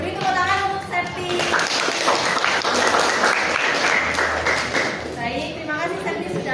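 Children clap together in a classroom guidance lesson, a dense burst of applause lasting several seconds, with young voices and chatter mixed in around it.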